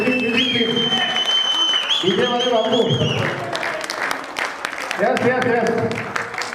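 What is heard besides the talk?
audience applause welcoming a guest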